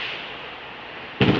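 Firecrackers on the last day of Chinese New Year: a steady crackling hiss, then a sudden louder burst of bangs near the end.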